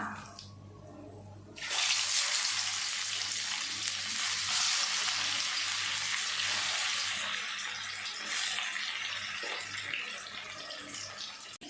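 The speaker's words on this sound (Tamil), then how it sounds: "இதே மாதிரி நம்ம அடுத்த சட்டியும் போட்டு பொரிச்சு எடுத்துடலாம்" Chicken 65 pieces deep-frying in hot oil in a pan for Pallipalayam chicken gravy, a loud, steady, dense sizzle that bursts in after a quiet start and keeps bubbling close up, with no talk over it.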